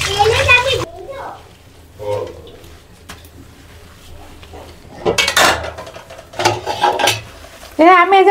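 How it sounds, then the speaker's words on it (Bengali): Plates being washed by hand, ceramic clinks and scraping knocks in short clusters with quiet gaps, close by, while someone talks over and between them. "আমি এই যে প্লেট মাজি রাখতেছি,"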